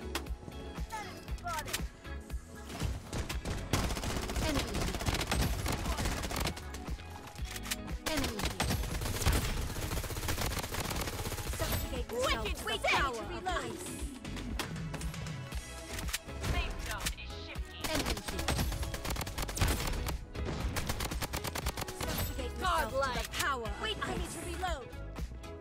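Gunfire in the battle royale game Bloodstrike, with a new Apocalypse MP155 in play: dense bursts and rapid volleys run almost without a break over continuous game music and effects, loud and busy throughout.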